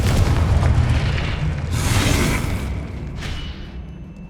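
A Confringo fire spell blasts in Hogwarts Legacy, a loud booming burst over a dense rumbling game soundscape, with a second, smaller flare-up near the end.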